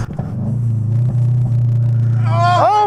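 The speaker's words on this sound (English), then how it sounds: "This is what your car's gonna sound like with an exhaust." Loud, steady droning exhaust from a Subaru car fitted with an aftermarket exhaust, a deep constant resonance that holds throughout, with a rising whine as the revs climb near the end.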